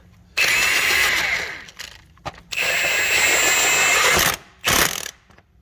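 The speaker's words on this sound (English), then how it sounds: "I'm just going to tighten down this bolt real quick" A power tool tightens a bolt during timing belt and water pump work on a 2007 Honda Odyssey, running in three loud close bursts of mechanical whirring and clicking, the last one short, with quiet pauses between.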